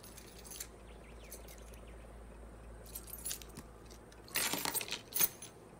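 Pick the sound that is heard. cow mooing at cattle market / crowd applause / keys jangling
keys jangling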